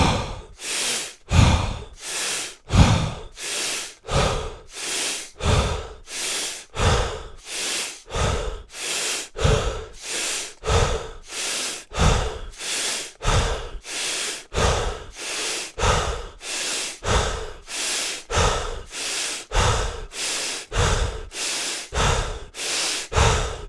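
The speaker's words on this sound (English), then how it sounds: "So exhale, inhale for 21." Deep breathing exercise: steady, loud, close breaths repeat in a regular rhythm, roughly one per second, each a forceful airy inhale or exhale, continuing without pause and with no talking.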